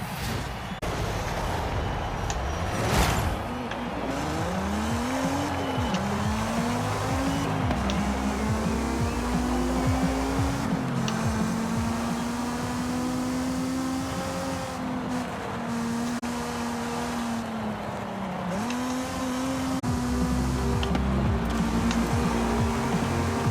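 A car engine in Forza Horizon 5 during a hot lap, revving loudly and continuously, with pitch climbing through the gears and dropping on shifts.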